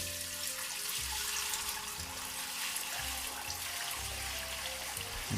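Whey from Vaccino Romano cheese curds pouring into a cloth-lined colander, a continuous close watery rush and trickle with no pauses.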